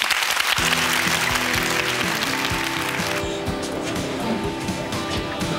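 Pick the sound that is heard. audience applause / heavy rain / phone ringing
audience applause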